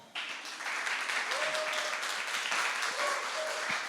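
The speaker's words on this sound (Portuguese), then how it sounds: "Gente, palmas para o Rafael." An audience at a gathering applauds in a sustained, even wash of clapping from start to finish, moderately loud, with a voice briefly audible underneath.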